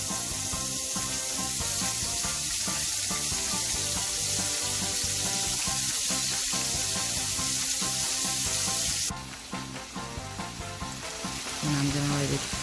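Vegetables and salted herring fry in a drizzle of olive oil for spaghetti, a steady loud sizzle with stirring scrapes throughout, easing slightly toward the end.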